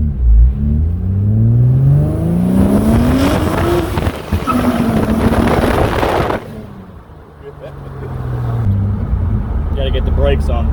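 Engine of a 2003 Nissan Maxima with a swapped 2nd-gen HR engine and 6-speed fires and revs, rising harmonic sweeps climbing then holding steady, loud and close, dipping briefly before building again, with a voice talking over it.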